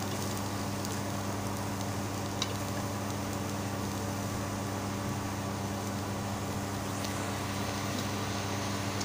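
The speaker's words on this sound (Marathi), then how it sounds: "कांदा भाजून घेत आहे।" Onion, ginger and garlic fry in a pan for a Marathi kartulyachi bhaji, making a steady, even sizzle with faint crackles that holds unchanged throughout, with no talking.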